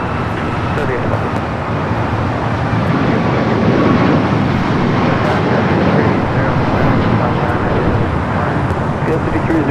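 Steady, loud broadband roar of an ITA Airways airliner on its takeoff run at LAX, holding constant throughout with a low rumble and airport background, no talk.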